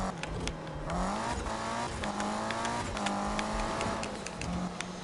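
Car engine in the Need for Speed 2015 racing game, revving loudly and continuously with repeated rising and falling pitch sweeps as gears change, dominating the whole stretch.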